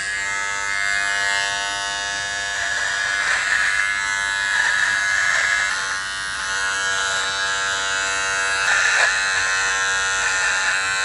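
A Philips Norelco Multigroom 5100 trimmer with a 3 mm comb runs close and loud through a beard, a steady high buzz that wavers as the blades pass through the hair.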